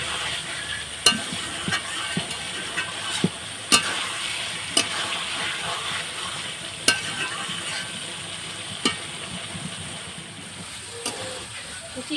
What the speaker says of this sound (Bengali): খুব ভালো করে আমি কষিয়ে দেবো মাংসটা।